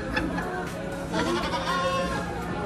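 A video game goat bleats in short, wavering cries, mid-level and slightly reverberant, over a busy background of game sounds and ambient noise.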